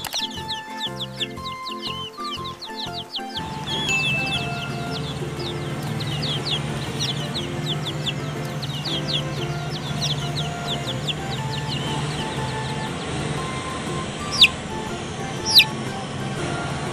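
Chickens cluck and chirp continuously after a brief opening of music, with two sharper, louder calls near the end.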